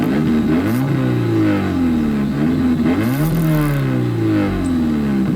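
A Subaru car engine with an aftermarket muffler revs up and down repeatedly, a loud, close, continuous rasping drone rising and falling in pitch.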